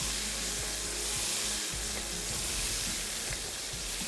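Gravy swirled onto the hot sides of a cooking pot sizzles and fries loudly and steadily, a dense continuous hiss with crackling and stirring throughout.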